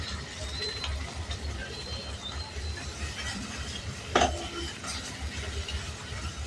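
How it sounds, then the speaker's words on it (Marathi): Gravy for paneer do pyaza being added to a pan and stirred, a faint scraping and soft sizzle with a single brief clatter of a spoon against metal partway through. "आता आपण याच्यात ग्रेव्ही घालूया."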